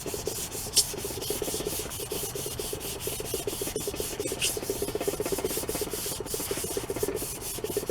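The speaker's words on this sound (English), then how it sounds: "I'm going to go over this paint that hasn't been primed with some really fine sandpaper just to roughen out the surface." Fine sandpaper is rubbed by hand over unprimed paint on rusty metal in quick, even back-and-forth strokes, close and continuous, with no talk.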